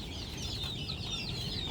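Chickens clucking and chattering in a steady, busy murmur over low background noise, several birds close by.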